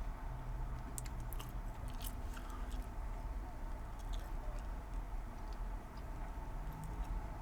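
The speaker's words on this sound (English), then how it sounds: "Sorry, I'm chewing gum." Gum being chewed close to the mouth, a steady run of soft, wet smacking and faint crunchy bites over a constant low background hum, with no speech.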